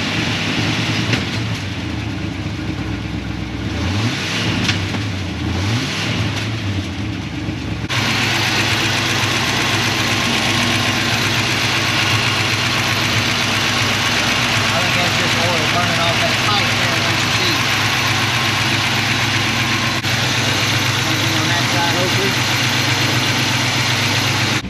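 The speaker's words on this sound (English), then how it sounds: "You got a clogged muffler." A 1984 Chevy C10 engine with a clogged muffler idles steadily and loudly up close, a low continuous rumble, with people talking over it.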